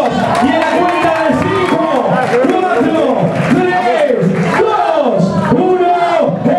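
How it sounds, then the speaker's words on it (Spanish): Crowd at a W Durazno flair bartending show erupts in loud, continuous cheering and shouting, dense and sustained throughout with voices layered over each other. "fuerte el aplauso para los chicos"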